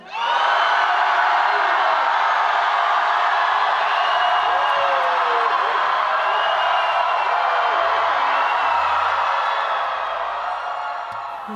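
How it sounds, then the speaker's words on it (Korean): Studio audience at a Zion.T interview event cheering and whooping loudly on cue, a sustained wall of crowd noise that holds for about ten seconds before tapering slightly at the end. "하나 둘 셋 하면은 정말 큰 소리로 환호성 한번 질러줄 수 있나요?"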